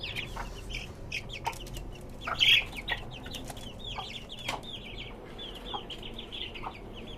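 Native chickens kept in cages on a rooftop farm cluck in scattered short calls, fairly faint, over a steady background hum with a few sharper clucks standing out.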